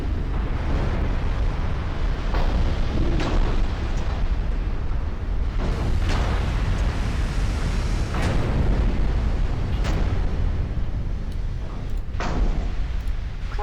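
Heavy shellfire slams into a battleship's upper works in the naval video game Dead Metal, a dense continuous roar of explosions with repeated sharp booming impacts every second or two, loud and close throughout.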